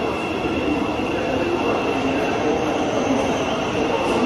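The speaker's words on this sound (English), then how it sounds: "Here comes our train for London Blackfriars." A train for London Blackfriars pulls into a station with a continuous loud rumble and rush of wheels, close by and without let-up.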